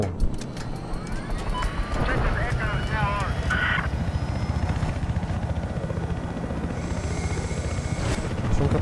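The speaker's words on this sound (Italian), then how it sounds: "Proviamo con l'elicottero, dai." A helicopter in the video game Battlefield 4, its rotor chopping in a fast, loud, continuous throb with engine whine and scattered game effects, while someone talks over it.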